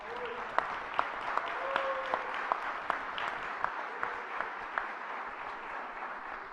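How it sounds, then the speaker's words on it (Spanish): A seated audience at a civil-society conference dialogue applauds a young guest, a soft, even wash of clapping with a few sharper close claps standing out, lasting several seconds with a faint tone or voice briefly underneath. "Les pido un aplauso para Julieta."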